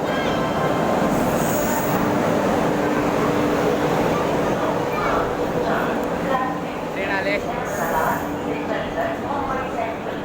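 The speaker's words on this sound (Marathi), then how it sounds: "आपल्या ट्रेनची एंट्री झालेली आहे" Heavy rumble of a train pulling into a station, wheels squealing at moments, with people talking over the noise.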